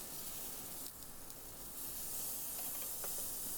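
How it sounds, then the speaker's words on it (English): Close, steady hiss of a New York strip steak sizzling on a hot grill just after being flipped, a broad continuous crackle that stays even, with a few faint clicks and no voices. "I'm going to flip the bigger steak now."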